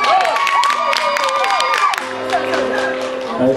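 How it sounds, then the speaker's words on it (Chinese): A school audience at a homecoming picnic party in Hsinchu cheers, whoops and claps for a band, a lively crowd burst that fills the space around a voice talking. "我们掌声鼓励一下，快点。"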